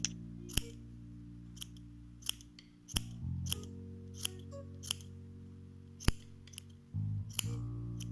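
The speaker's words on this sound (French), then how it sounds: "on va couper encore un peu le pompon parce que là vraiment c'est un trop gros pompon pour un trop petit bonnet" Scissors snip through a knitted pompom on a small hat in a series of sharp, separate cuts, about a dozen crisp clicks spread unevenly over a quiet room hum.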